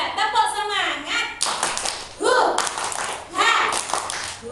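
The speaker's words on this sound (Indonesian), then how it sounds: "Coba tepuk semangat" Kindergarten children at a school in Kediri clap a rhythmic spirit clap together, in sharp patterned bursts of claps mixed with their chanting voices, loud and close.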